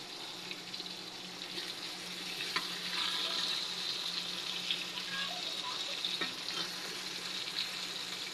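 Fish frying in oil on a home stove, a steady hissing sizzle throughout with a few faint clinks, moderately close and without talk.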